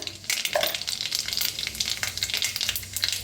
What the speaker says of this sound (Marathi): आता तेल चांगलं गरम झालेलं आहे, त्याच्यातच टाकूया अर्धा चमची मोहरी, अर्धा चमचा जिरं